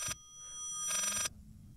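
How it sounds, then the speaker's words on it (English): A telephone bell in the Layers of Fear game rings with a reversed, backwards-played quality: two bright, metallic bursts of ringing, the second longer and swelling, at moderate loudness over a faint low hum. "It sounds like it's ringing backwards."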